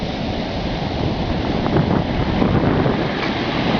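Surf rolls onto the shore at Lawrencetown Beach in a steady, loud wash, heavily buffeted by wind noise on the microphone, with no voices.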